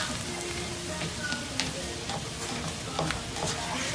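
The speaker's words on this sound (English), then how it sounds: "we let our rice and beans and everything cook in this pan" Rice, beans, fresh onions and garlic sizzle and fry steadily in a pan for Cuban cooking, with soft crackles and occasional pops throughout at a constant close level.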